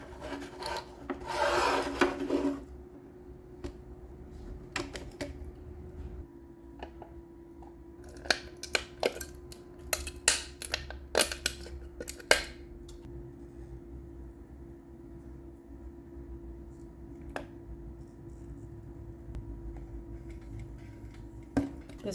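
Plastic casing of a Claro TV Box being cut away, a burst of rough rasping at first, then a series of sharp snips and clicks spaced irregularly over a low steady hum.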